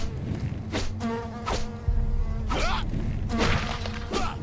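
Buzzing insect hives in the video game Lecarde Chronicles 2 give off a droning buzz that swells and fades in repeated bursts, mixed with game thumps and a shattering hit.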